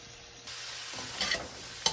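Pancit noodles stir-fried with garlic in a pan: a soft scraping stir begins partway in, over a low sizzle, with a couple of brief louder clanks of utensil against pan.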